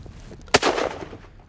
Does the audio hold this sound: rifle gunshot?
yes